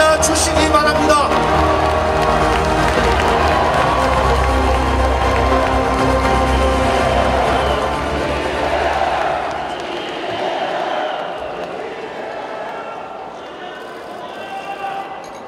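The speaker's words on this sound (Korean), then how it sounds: "뜨거운 박수로 맞아 주시기 바랍니다." A crowd at a Korean political rally applauds and cheers loudly for Lee Jae-myung, a dense roar of clapping and shouts up close that gradually thins and fades toward the end.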